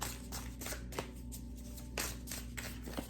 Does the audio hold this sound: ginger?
no